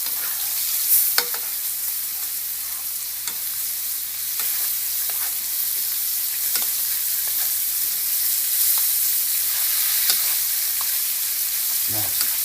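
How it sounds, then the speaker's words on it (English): A steak sizzles steadily in a hot pan while being basted with rosemary, a constant broadband frying hiss with occasional spoon clicks and spatters, close and fairly loud with no talking. "Now, baste the steak beautifully."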